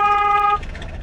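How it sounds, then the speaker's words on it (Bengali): A car horn sounds in a steady, loud, sustained blast during a driving lesson on the Dhaka–Sylhet highway, then cuts off into road and engine noise. "এখন হর্ন বাজাতে হবে।"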